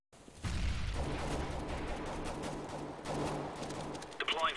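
Sustained gunfire in a tactical shooter video game, dense overlapping shots with loud ongoing rattles through most of the stretch and a higher electronic sound near the end, moderately loud with no clear talk over it.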